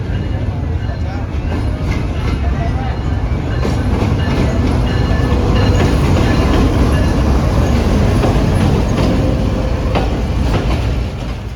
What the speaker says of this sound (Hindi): ये एक मिल्लत एक्सप्रेस आई है, हमारी ट्रेन नहीं है।